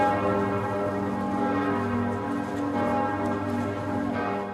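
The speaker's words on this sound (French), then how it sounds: "toutes les cloches de France ont retenti pour eux" Church bells across France peal steadily and continuously, a dense ringing wash of overlapping tones, fairly distant and sustained throughout.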